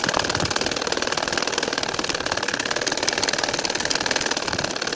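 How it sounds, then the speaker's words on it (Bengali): A domestic sewing machine runs continuously while stitching a nakshi kantha quilt, its fast even mechanical chatter droning close and steady throughout with no talk. "তারপরের খোপ ধরে কিন্তু আমি সেলাই করে যাচ্ছি"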